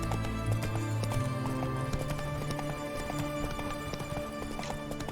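Roach, the horse in the video game The Witcher 3, gallops with rapid rhythmic hoofbeats close by. A neigh and some ambient music sit under the hooves.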